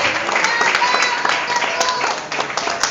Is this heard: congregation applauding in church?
yes